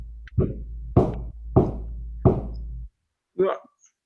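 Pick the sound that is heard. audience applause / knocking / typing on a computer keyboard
knocking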